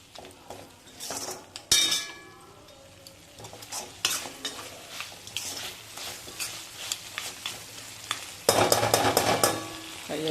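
Mutton fry sizzles in a pan as it is stirred, with frequent clinks and scrapes of a utensil against the metal and a steady frying hiss throughout.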